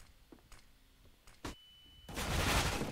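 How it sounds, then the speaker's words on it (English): Gunfire in Counter-Strike on the Inferno map: a few sparse clicks and one sharp report, then a loud, dense burst of shots filling the last second. "As Rami takes a hail of gunfire, down to 25, he will fall."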